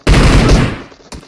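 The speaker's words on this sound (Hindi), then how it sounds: "मेरे पास है मशीन गन" Rapid machine gun fire in a video game, a dense, loud sustained burst that tapers off, followed by one more sharp shot near the end.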